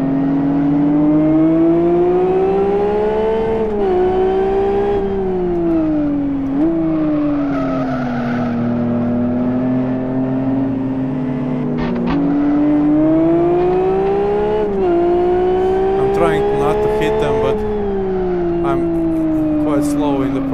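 Race cars in the Live for Speed racing game roar together at a race start, engines revving loudly and continuously with shifting pitch and tire squeal, close and dominant throughout.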